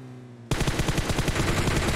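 Rapid bursts of automatic gunfire in the mobile battle royale game PUBG Mobile, a loud sustained volley that erupts suddenly after a brief quiet moment and rattles on continuously.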